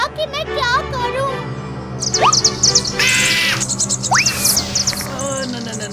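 Bird cries and chirps in a fairy-tale cartoon setting with trees, rising sharp calls repeating over several seconds, mixed with a child-like voice talking and background music.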